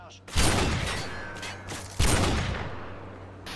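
Sniper rifle shots in a video game, two sharp loud cracks about a second and a half apart, each trailing off in a long fading echo.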